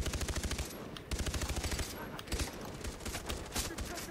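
Rapid automatic gunfire from a Far Cry 3 online co-op match, sharp bursts of repeated shots opening the clip, then a second burst, followed by continued scattered firing and game noise.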